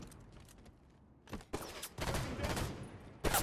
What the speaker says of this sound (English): Enemy firing on blue tunnel.